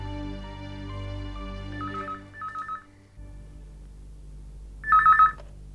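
A telephone rings in a domestic drama scene with two short double trills, a pause, then another trill, sounding fairly close over a low background hum.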